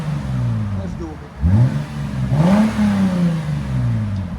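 A 2014 Lexus IS 250 all-wheel drive with a 2.5L engine and Valvetronics exhaust mufflers, valves closed, revs up twice, loud and close, then settles back to a steady rumbling idle.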